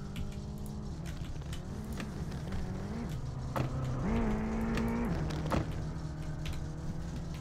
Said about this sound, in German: Geile Rallye-Sounds, oder? Ich mag die Rallye-Autos.